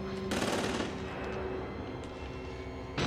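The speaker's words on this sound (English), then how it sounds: "Ooh, there's gunfire." Bursts of rapid automatic gunfire in the video game Outlast: Whistleblower crackle over a steady electronic hum, a sharp shot cutting in again near the end; no one speaks.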